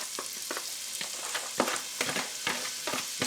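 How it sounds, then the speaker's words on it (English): Chopped onion and celery sizzle and crackle in rendered bacon fat, with repeated sharp stirring scrapes punctuating the steady frying hiss. "So we're just going to saute them in that rendered bacon fat."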